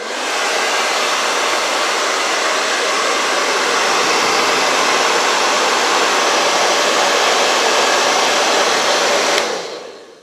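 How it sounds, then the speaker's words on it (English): A blow dryer runs steadily at close range, heating a part of a Venom statue so it softens and bends, a loud unbroken rushing whoosh lasting about nine seconds before it cuts off abruptly and the sound fades. "I'm gonna put it on the blow dryer for maybe about 30 seconds to a minute."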